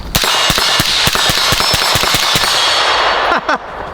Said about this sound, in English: you don't stop shooting till that target is down and not moving anymore